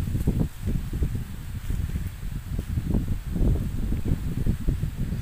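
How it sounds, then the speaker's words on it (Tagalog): Strong wind gusts across an island hilltop, buffeting the microphone with heavy low rumbling and rustling foliage in uneven surges, with no talking. "Oh, malakas na naman na yung hangin dito."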